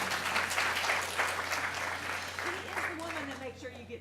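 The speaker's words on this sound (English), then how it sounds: "Everybody give her a round of applause." Audience applause at a closing Q&A session, a dense sustained clapping from a crowd that gradually thins out, with voices talking under it.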